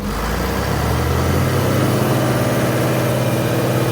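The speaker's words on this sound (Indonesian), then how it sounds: "Sekarang kita akan tes untuk engine high idle." Komatsu 755 grader diesel engine held at high idle, a steady loud droning rumble with constant low pulsing throughout and no voices.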